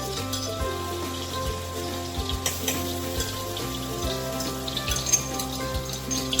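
Garlic frying in shallow oil in a wok (kadhai), a steady close sizzle with intermittent stirring scrapes and clinks throughout, no voices.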